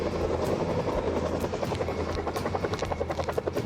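A helicopter's steady rotor drone, close and continuous, with a rhythmic chopping pulse growing clearer toward the end.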